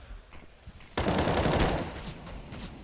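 Gunfire in CS:GO on the Inferno map during a pro match, a few faint early shots and then a sudden loud burst of rapid automatic fire that trails off.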